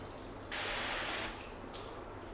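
Water from a hose or rinse splashes onto freshly waxed car paint in a bright, hissing burst of about a second, then sheets off with a softer trickle and a brief second splash; nobody speaks.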